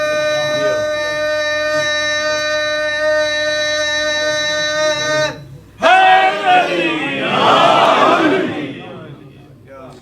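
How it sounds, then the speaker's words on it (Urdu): Loud crowd at an Eid-e-Ghadeer gathering bursts into a massed Nara-e-Haidari chant after a sustained held tone, voices swelling together and then tapering off. "آپ نعرے حیدری لگاتے ہیں"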